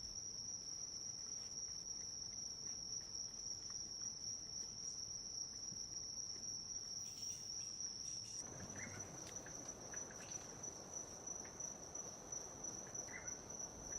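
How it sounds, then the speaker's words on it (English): Central American forest insects chirp in a steady, high-pitched continuous trill, faint and unbroken throughout, with a slight change in background texture partway through. "Other fascinating creatures found in the forest, if one looks hard enough, are insects of various shapes and colors."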